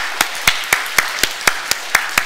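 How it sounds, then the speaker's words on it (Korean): A church congregation claps together in a steady unison beat, about nine crisp, evenly spaced claps in quick succession. "박수 한번 하십시다"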